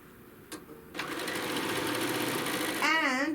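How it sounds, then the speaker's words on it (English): A sewing machine stitches through a quilt, starting after a quiet moment with a few soft clicks, then running as a steady close motor hum, with a brief voice near the end. "as we're sewing, you're just going to try to sew through the quilt tack"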